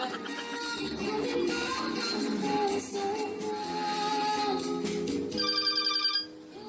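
A telephone rings for an incoming caller on a live radio call-in show, its repeated electronic tones sounding steadily over studio background and ending abruptly.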